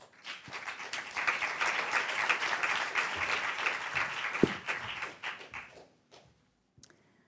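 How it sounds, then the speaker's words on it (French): Audience applauding a poet as she comes to the stage at an event, a lively burst of clapping that builds, holds for several seconds, then tapers off into near silence with a few stray claps. "Merci à tous de l'applaudir"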